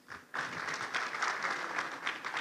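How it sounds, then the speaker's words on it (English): A conference audience breaks into applause after a brief pause, a dense steady patter of many hands clapping at moderate volume. "A round of applause for Felix."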